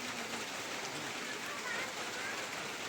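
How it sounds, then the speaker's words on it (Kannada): Heavy rain drums on a metal sheet roof over a shelter at a temple, a constant broadband hiss that is fairly faint and even throughout, with no one speaking. "ಮಳೆ ಯಾವಾಗ ಬಿಡ್ತದೆ ಅಂತ ಕಾಯ್ತಾ ಇದ್ದೇವೆ."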